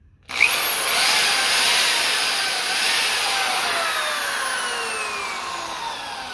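Electric drill plugged into a newly fitted wall outlet and switch module, starting abruptly and then running at a loud, steady high whine close by for about six seconds, with no talk.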